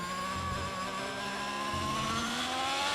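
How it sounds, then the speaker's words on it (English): A Red Bull Formula 1 car engine, essentially a Honda power unit, in the F1 22 racing game, whines at high revs as a steady, continuous, loud drone with a slight shifting pitch and no talking. "the engine as well sounds so different."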